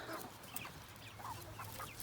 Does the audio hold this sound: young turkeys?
yes